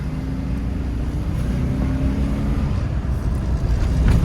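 A 2000 Chevy Silverado with a muffler delete and a failing 4L60E transmission drones loudly and steadily up close, its deep, raw exhaust rumble holding an even, strained note.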